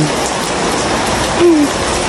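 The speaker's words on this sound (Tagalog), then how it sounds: "Inabot kami ng ulan." Steady rain pattering densely on a surface, with a brief tonal squeak partway through.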